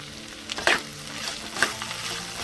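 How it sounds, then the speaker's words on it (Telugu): Okra sizzles as it is stir-fried in a pan for a tempered side dish, a steady crackling fry with a couple of sharper scrapes or stirs, moderately loud and without talk. "ఓన్లీ తాలింపేనండి, బెండకాయ తాలింపు"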